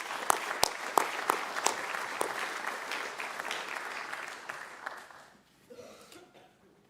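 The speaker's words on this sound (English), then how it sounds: "Thanks for all those claps for the students." Audience at a senior awards night applauding students, a burst of scattered hand claps with a few sharp nearby claps, fading out after about five seconds into quieter room noise.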